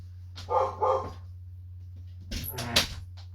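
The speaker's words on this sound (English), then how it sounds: "I knew she would bark." A dog barks twice in quick succession nearby, a short pause, then a louder burst of barking follows over a steady low hum.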